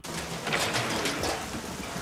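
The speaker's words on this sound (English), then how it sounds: "It was raining harder than I thought, and the wind was so strong" Steady, dense rain hisses loudly and continuously, with a gusty rushing roar of wind swelling underneath.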